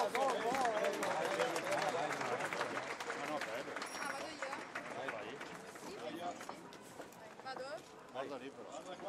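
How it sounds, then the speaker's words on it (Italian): Crowd applause at the ribbon-cutting opening of the Antica Fiera di San Gregorio, a steady dense wash of clapping from many hands that continues throughout, with voices speaking over it. "applauso a contributo del taglio del nastro all'inaugurazione ufficiale della Fiera di San Gregorio"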